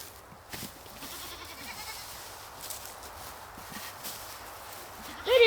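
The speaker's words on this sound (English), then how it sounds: "These guys right here are our mini Oberhasli bucks." Mini Oberhasli buck goats are being fed, with soft shuffling and movement over faint background sound and a sharp goat bleat breaking out loudly right at the end.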